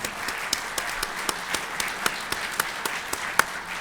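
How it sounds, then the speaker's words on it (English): Applause from a banquet audience at a convention awards dinner, a steady wash of many hands with scattered louder claps standing out, fairly close and filling the whole stretch without talk. "I want to give a big round of applause to Sheldon and Christine Smith"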